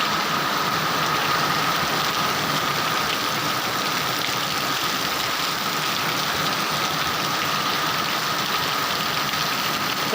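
Steady rain in a village area of Jamnagar district, a dense continuous hiss that stays loud and even throughout, with a low engine-like rumble underneath.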